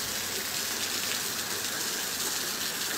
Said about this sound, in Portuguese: Caindo aqui uma chuvinha aqui em Quais Novos